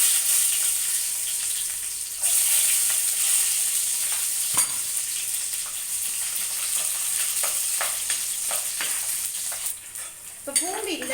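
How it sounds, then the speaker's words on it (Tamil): Garlic dropped into hot oil with fenugreek for a village-style sardine curry, sizzling and crackling loudly and continuously in the pan, with occasional stirring scrapes and clinks of a utensil, and no talking. "இப்போ வந்துட்டு நம்ம பூண்டு போட்டுக்கலாம்."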